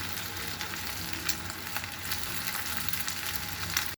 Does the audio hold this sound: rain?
no